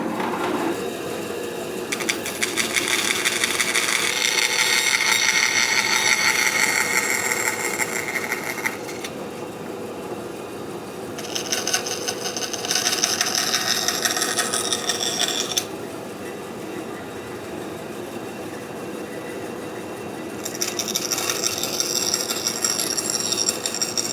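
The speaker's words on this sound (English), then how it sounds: "So I'm just going to zing it off real quick with the bandsaw." Bandsaw cutting through wood to trim off a tenon, a loud sustained whine in three long cuts separated by quieter idling, no talking.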